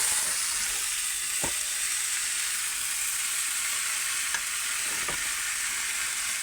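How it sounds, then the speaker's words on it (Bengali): Pumpkin and potato chechki fries in a pan, a steady even hiss of sizzling oil close by, broken by a few sharp spatula taps as it is stirred. "নাড়িয়ে নাড়িয়ে ভালো করে ভেজে নিয়েছি"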